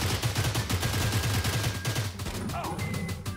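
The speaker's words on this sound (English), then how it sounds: "What the hell are you guys shooting at?" Rapid bursts of automatic gunfire in the shooter game STALCRAFT X, steady and fairly loud through the whole stretch with dense repeated shots and a brief faint tone near the end.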